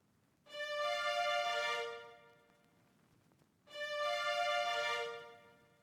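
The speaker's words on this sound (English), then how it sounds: "I added this strings from Expand that will sound like this" A string sample from the Expand plugin plays in a beat production. Two sustained, swelling chords rise and fade, separated by a quiet gap. The sound is moderately soft and has no talking over it.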